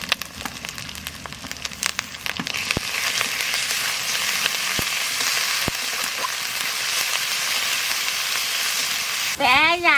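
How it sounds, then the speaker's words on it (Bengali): Onion, ginger and garlic paste frying in hot oil in a Bengali fish curry, a continuous close sizzle with crackles and occasional stirring clinks, ending in a brief louder scrape or clatter. "পেঁয়াজ আদা রসুন একটু ভাজা নিয়েছি"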